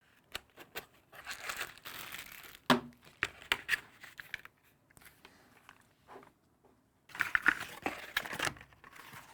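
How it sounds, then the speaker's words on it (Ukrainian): Audio-Technica ATH-CKS30TW+ wireless earbuds being unpacked from their box, with bursts of crinkling packaging, tearing and light handling clicks, close and intermittent with short quiet gaps. "Експрес розпакування просто зараз."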